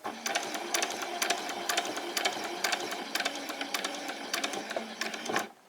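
A sewing machine stitches summer shorts, running a back stitch with a rapid, even needle patter at close range before winding down and stopping.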